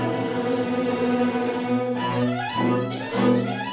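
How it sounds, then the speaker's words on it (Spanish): Orchestral strings playing Vivaldi's depiction of a spring storm from The Four Seasons, with dense sustained tones and rapid rising runs and tremolo, loud and continuous throughout. "para Vivaldi la tormenta suena así"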